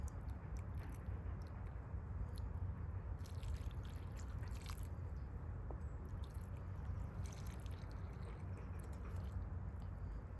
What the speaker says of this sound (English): Finished watering.